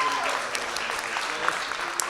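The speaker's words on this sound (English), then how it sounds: "Huge round of applause." A crowd applauding steadily at a speedrun event, a dense wash of clapping hands that holds an even level throughout.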